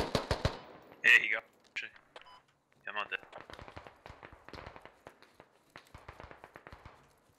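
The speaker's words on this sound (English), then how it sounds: "But the guy was shooting at you guys" Rifle fire in the military shooter Squad during a scrim match, with rapid bursts and single shots crackling at middle distance amid quiet stretches, while players talk over it.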